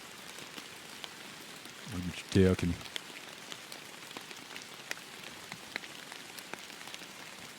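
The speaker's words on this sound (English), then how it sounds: "with the perpetual rain sleeting down on you" Constant light rain patters on surfaces as a faint, steady ambience with scattered droplet ticks, while someone briefly speaks partway through.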